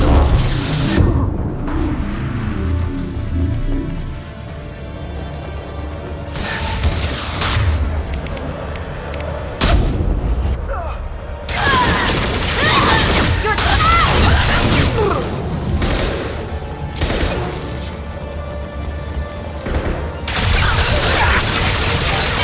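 Gunfire and explosions from the shooter video game Mass Effect 2, loud repeated bursts and booms with whooshes across a busy combat scene, with a voice speaking briefly.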